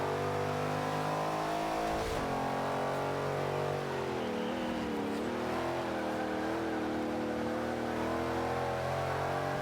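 A Ford Mustang race car in Forza 5 drones loudly and steadily through its gears, the engine pitch rising and dipping as it accelerates and shifts, with no voices.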